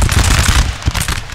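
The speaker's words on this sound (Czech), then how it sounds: "To byl výstřel aspoň." Gunfire in a strategy video game campaign set in 1815 comes as a loud, dense burst of overlapping shots, close and forceful, with no talk.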